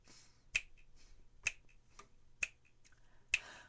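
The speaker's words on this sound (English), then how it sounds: "Help me out by snapping your fingers." Audience members at a Valentine's brunch snap their fingers in time, four sharp, fairly loud snaps spaced about a second apart with a few fainter scattered snaps between them and no voices.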